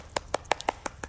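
Seven sharp, evenly spaced claps in quick succession, close and light, a small applause effect rather than a crowd.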